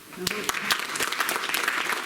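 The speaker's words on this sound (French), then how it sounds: "On peut applaudir." Audience applause breaks out at an art exhibition opening at Espace Gibert in Lézignan-Corbières, a steady patter of many hands with sharper individual claps, a voice briefly heard over it near the start.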